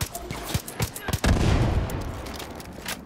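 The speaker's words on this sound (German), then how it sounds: "Wieso ist der jetzt explodiert?" A loud blast from the Far Cry 5 video game, a sudden boom followed by a rolling roar that decays over a couple of seconds, after a few sharp bursts of nearby gunfire.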